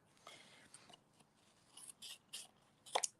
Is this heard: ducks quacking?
no